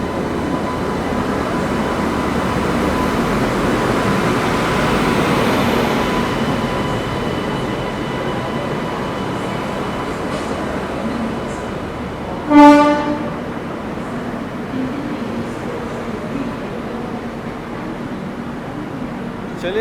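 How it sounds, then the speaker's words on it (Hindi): The Sealdah Bikaner Duronto Express rolls into a platform with a steady rumble of wheels, then sounds one short, loud horn blast before the rumble carries on. "शालदा बीकानेर दुरंतो अराइव कर रही है"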